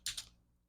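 Two quick, faint keystrokes on a computer keyboard, tapping out a text prompt while building a Shopify store size chart, heard close and alone with a short fade after.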